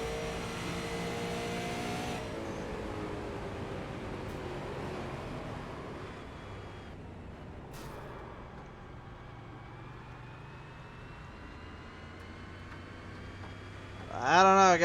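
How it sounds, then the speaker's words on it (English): Onboard race car engine at Dover Motor Speedway, a steady droning note with rising harmonic sweeps as the revs climb and fall, then a loud sharp surge of revving at the very end. "Let's listen to the RPMs."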